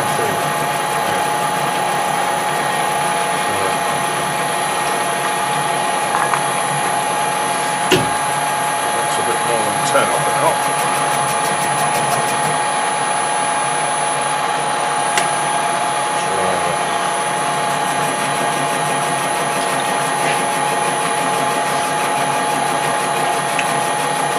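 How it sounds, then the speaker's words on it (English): Steady mechanical whine and hum of a metal lathe drilling continuously, with a few sharp knocks and faint voice sounds underneath. "we'll get rigged up for some drilling."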